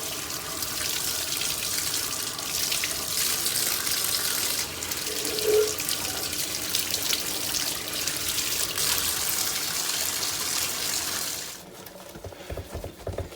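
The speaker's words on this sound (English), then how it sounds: "So, I'm going to go ahead and run it in the water." A cymbal rinsed under a running tap, a steady close splashing gush of water lasting most of the time before the flow cuts off near the end.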